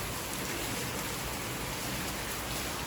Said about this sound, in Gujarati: વરસાદ એટલે બહુ જ આવે છે